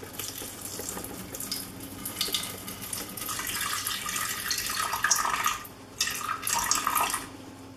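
Warm water runs from a tap into a bowl on a kitchen scale for Japanese white bread dough, a steady splashing stream that shifts pitch as the bowl fills, briefly dips, then resumes.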